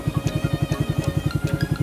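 A Yamaha MT-25 motorcycle engine runs at idle, a fast, even pulsing chug repeating many times per second, close and steady with no voices.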